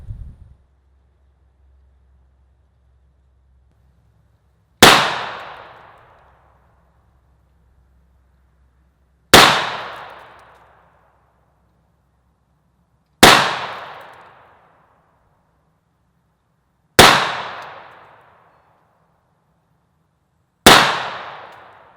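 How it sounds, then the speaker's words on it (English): Five sharp, loud shots from an HK USP Expert 9mm pistol fired free-handed, spaced about four seconds apart, each a crisp crack with a short ringing decay, under a faint steady low hum and with no talk. "Now let's shoot free-handed and see what kind of group I can get."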